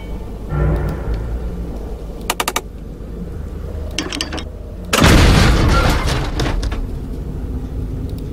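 Cannon fire in a video game: a sharp mechanical clatter and a few quick ticks, then one loud booming blast at about five seconds that rumbles on and fades slowly.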